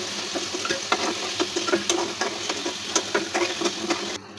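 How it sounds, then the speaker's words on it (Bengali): Potato pieces with salt and turmeric fry in hot oil for a chicken curry, giving a steady crackling sizzle with sharp scraping stirs of a spoon against the pan, loud and close, with no talking. "একটু লবণ আর একটু হলুদ, আলুগুলো লাল লাল করে ভেজে নেব।"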